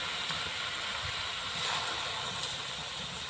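Taro leaves sizzle in a wok slicked with leftover hilsa fish oil, a steady close hiss that stays even throughout, with no talking.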